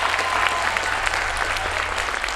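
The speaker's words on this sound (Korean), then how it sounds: "다시 한번 큰 박수 부탁드리겠습니다" Audience applause at a company party's opening ceremony, a dense, steady wash of many hands clapping close and loud for the full stretch without a break.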